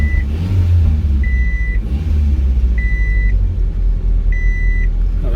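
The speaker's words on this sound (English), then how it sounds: "We're going to see if we can get it started and take it for a ride." An old 1986 Honda Civic CRX HF engine, long unused, rumbles and turns over at close range, with a repeated high beeping tone sounding at regular intervals over the running motor.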